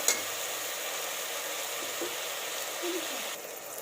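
Chopped tomatoes frying in a pan of oil while making chana biryani give off a steady, soft, continuous sizzle with a few faint stirring bumps. The sizzle runs evenly throughout with no talking.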